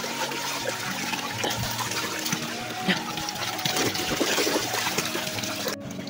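Water flows from a village tap in Nepal in a steady trickle and splash, close and continuous, with low background noise and no clear talking.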